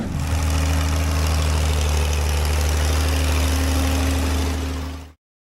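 A John Deere 4020 tractor engine idles in a steady, loud, close rumble with a low even throb that holds for about five seconds and then cuts off.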